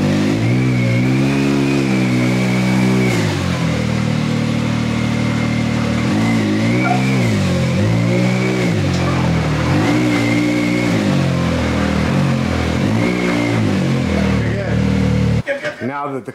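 A Stage 5 Can-Am Maverick X3 engine idles loud and close with repeated rev swells, and voices talk over it near the end.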